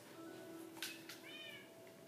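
Several cats meow in a video game where Siamese cats are being bred, giving a few short, fairly clear mewing calls over a steady background hum.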